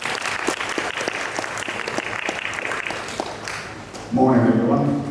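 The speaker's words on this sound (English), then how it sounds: "Please, big round of applause." Applause from an audience welcoming a Larrakia Nation speaker to the stage for a welcome to country, a busy patter of claps under a voice before it gives way to someone speaking close by.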